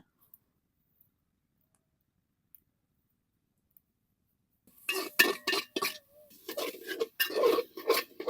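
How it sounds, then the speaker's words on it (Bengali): Metal pots and utensils clink and clatter as cooking is done on a clay stove inside a village house. A few faint ticks come first, then about four seconds of close, irregular knocks and scrapes, with no talking. "আমি আর মালিক মূলত রান্না করতেছি এই যে মাটির চুলাতে"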